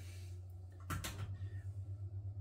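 An oven door clunks as a dish of chicken stew goes back in, one brief knock over a steady pulsing hum of the oven fan, close and faint.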